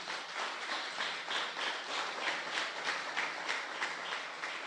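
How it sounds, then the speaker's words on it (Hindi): A church congregation claps steadily and loudly together, a dense continuous patter of many hands filling the room for several seconds without a break. "आइए जोरदार ताली बजाएं।"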